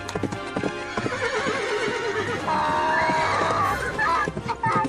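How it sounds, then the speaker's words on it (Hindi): Cartoon horse hooves clip-clop in a steady rhythm through a busy chase scene, with whinnies and neighs rising over music and other sound effects, loud and close. "खुद घोड़े पर चल रहा है और हम गधे पर"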